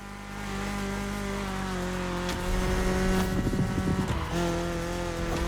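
A BMW E30 3 Series engine hums steadily in a racing game, then revs harder with gritty tire-scrub and skid noise before settling back to a cruise.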